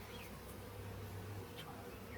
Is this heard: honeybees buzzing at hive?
yes